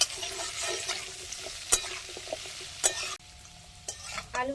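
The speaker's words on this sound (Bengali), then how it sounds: "আলুগুলোকেও একটু কড়া করে ভেজে নেব" Potato sticks frying in a pan for a bhindi dish, a steady crackling sizzle broken by sharp scrapes and knocks of a spatula stirring, close by with no talk.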